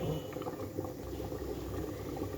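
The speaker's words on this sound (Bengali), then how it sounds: "এই যে বলকটা এখন ভারী ভারী বলক উঠছে" A pot of curry made with wild taro and fish head bubbles vigorously, with a steady, thick gurgling boil heard up close and a low hum underneath.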